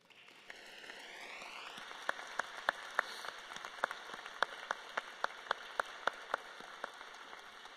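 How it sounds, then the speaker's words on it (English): Graduation audience at a high school ceremony in Fort Collins giving a round of applause, a steady wash of many hands with sharper individual claps popping out, building in and holding at moderate loudness. "would you please help me acknowledge those folks by giving them a round of applause"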